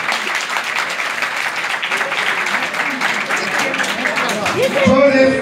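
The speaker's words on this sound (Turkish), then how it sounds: "kendisini kuvvetli bir şekilde alkışlayalım" A crowd at a village iftar gathering claps steadily and loudly, sustained applause that carries on throughout, with a voice over a loudspeaker rising near the end.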